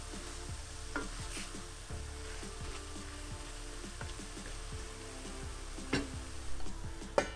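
A curry sauce cooks in a pan with a soft, steady sizzle and bubbling. Regular light ticking and occasional stirring scrapes sit over the simmer, close and fairly quiet, with no voices.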